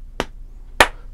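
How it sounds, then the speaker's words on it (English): Two sharp, close hand claps ring out about half a second apart, the second louder, against a quiet background during a children's clapping activity led by a teacher. "That's the way we clap, clap, clap."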